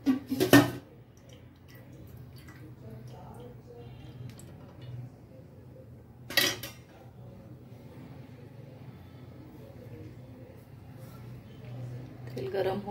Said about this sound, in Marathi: इथे मी एक टोप घेतलेला आहे, त्याच्यामध्ये मी 2 ते 3 चमच तेल टाकून घेणार आहे।